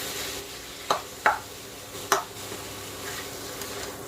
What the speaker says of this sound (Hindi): क्योंकि हमको इनको भूनना है, तो बस अब इनको अच्छी तरह से मसाले के साथ हमें भूनना है।